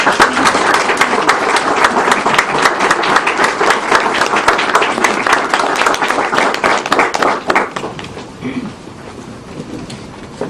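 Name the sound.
audience applauding at library dedication ceremony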